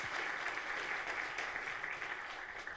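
An audience claps together in a dense burst of applause that holds steady for a few seconds, then thins slightly as it fades.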